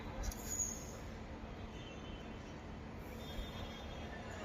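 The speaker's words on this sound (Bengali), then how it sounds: "মেট্রোটা হ্যাঁ বেরিয়ে গেল" A metro train pulls out of the station: a faint, steady low rumble of rolling stock with a thin high squeal near the start, fairly distant and without clear talk.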